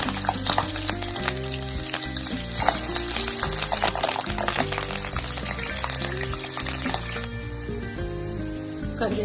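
Green chillies sizzle in hot oil for a spicy murmura snack, a steady close frying hiss running beneath loud background music.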